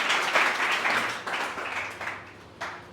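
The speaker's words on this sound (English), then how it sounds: "Please applaud by your clap." Scattered clapping from a small group, a few seconds of uneven applause that fades, then a brief final burst of claps.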